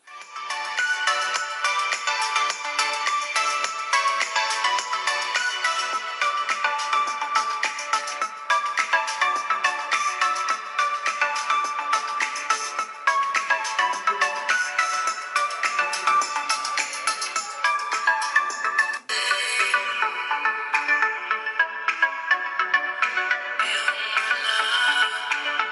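Music plays continuously from the single bottom-firing Dolby speaker of a Lenovo Z6 Pro smartphone, bright and fairly loud with a thin, tinny tone, with no talking over it.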